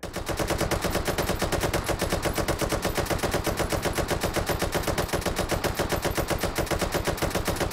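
Sustained automatic gunfire in the VR shooter Hot Dogs, Horseshoes & Hand Grenades, a rapid, unbroken stream of loud shots with a steady rhythm throughout, no voices.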